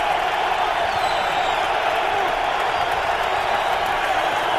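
A football stadium crowd cheers during a 2007 Patriots versus Browns game, a loud, continuous roar that holds steady with only slight swells throughout.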